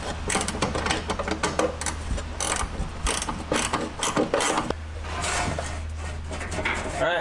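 Repeated ratcheting clicks and metallic clatter as a wrench bolts a dry sump tank bracket into place, a busy run of close mechanical ticking that changes pace partway through.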